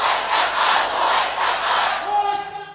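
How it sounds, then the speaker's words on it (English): Protest crowd chanting loudly in unison in Freedom Square on the edge of Manama, Bahrain, rhythmic massed voices demanding the king step down, swelling in waves before a brief whistle-like tone near the end. "On a plot of ground on the edge of Manama that the protesters call Freedom Square, the crowd are demanding the king step down."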